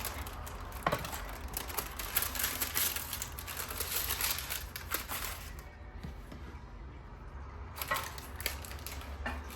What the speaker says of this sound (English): we're back for round 2 of cutting the mochi cake